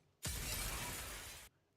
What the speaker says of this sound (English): the moment you hear Windows glass breaking